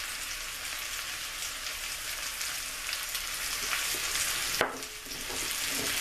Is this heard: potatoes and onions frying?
yes